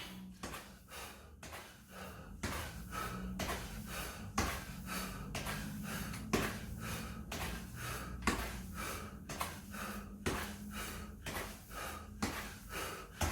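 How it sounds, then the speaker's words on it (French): Heavy rhythmic breathing during a cardio workout of knee raises with claps under the knee: loud, close gasps and forceful exhales repeating about once a second, each marked by a sharp clap-like burst, without speech. "Écoutez ma respiration"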